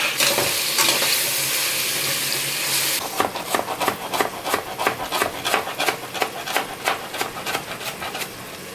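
Sliced large tomatoes hit hot oil for a Muslim-style mutton biryani, giving a loud sizzle that eases after a few seconds into rhythmic scraping and stirring strokes in the pan, with no talk.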